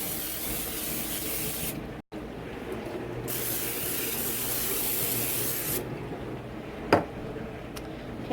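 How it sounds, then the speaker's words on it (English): Grease sprays onto cookie baking sheets in long, steady hissing bursts, close up, with brief gaps between passes and a short knock near the end. "What we're going to do is we're going to grease our cooking sheets."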